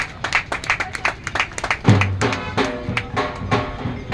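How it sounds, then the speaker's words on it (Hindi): Audience claps at the opening of a building hall, beginning as loud, close, scattered individual claps and then swelling into fuller applause, with a voice briefly heard partway through. "जोरदार तालियां एक बार।"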